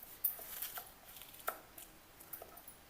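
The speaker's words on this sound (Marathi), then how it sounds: "बघा, केळीला आता कापून घ्यायचं।" A knife slices a peeled raw banana into thin pieces, giving a quick series of soft, crisp cuts at an uneven pace, close and fairly quiet, with no talking.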